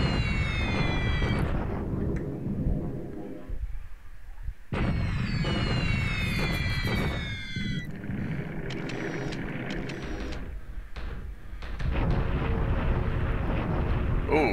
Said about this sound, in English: Bomb in China.